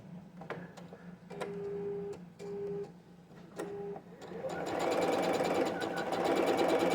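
A home sewing machine that is acting up, seeming to sew stitches by itself, gives a few short mechanical whirs and ticks before breaking into a louder, steady stitching run, close to the listener with no talk.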